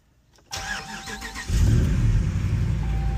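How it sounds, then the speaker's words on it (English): A RAM truck's 5.7 Hemi fitted with an Edelbrock supercharger cranks briefly and fires, then settles into a loud, steady rumble close by with no talking. "We're gonna go ahead and start the truck."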